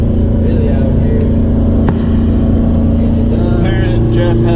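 A car engine that has blown and is knocking hard, running as a loud, steady, close droning rumble with a sharp tick near the middle, while people talk over it.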